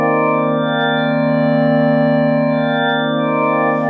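Static synth pad from an Elektron Syntakt with its second LFO removed: a steady, sustained chord held unchanging for the whole span, loud and alone with no talk.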